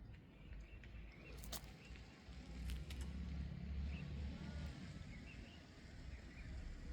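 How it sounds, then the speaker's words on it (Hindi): A car drives along a winding mountain road toward a village near Guptkashi in Uttarakhand, its engine a low, steady rumble at moderate distance, with a few faint clicks and light wind over it. "ये गाड़ी भी दिवली भणी गाँव की तरफ जा रही है।"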